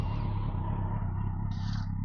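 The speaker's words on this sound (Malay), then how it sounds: "Jom kita start tengok ini Kawasaki GTR 1004 bunyi dia macam mana." A 2010 Kawasaki GTR1400 motorcycle starting up, giving a steady, low idling rumble close by that runs through the whole brief moment.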